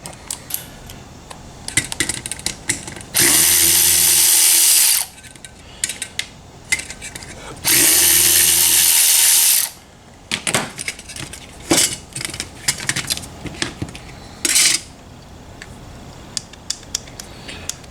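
A ratchet fitted with a 1/4-inch socket works on a replacement bathroom fan motor, giving bursts of quick metallic clicking between two longer, loud, steady stretches of broadband mechanical noise.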